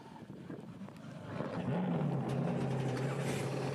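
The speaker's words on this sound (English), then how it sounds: "We anticipate having the engines fire up right about now." GT4 race car engines fire up together on the grid at Las Vegas Motor Speedway, a low steady engine drone rising in loudness midway and settling into a sustained idle hum over wind noise.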